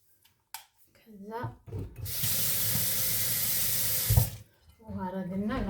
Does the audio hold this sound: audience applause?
no